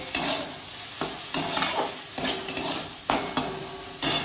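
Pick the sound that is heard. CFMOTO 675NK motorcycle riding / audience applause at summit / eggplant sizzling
eggplant sizzling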